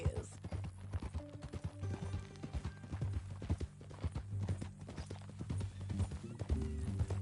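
Steady clip-clop of horse hooves in a brisk rhythm in Red Dead Redemption, close and clear, with a horse snorting and whinnying over a musical background.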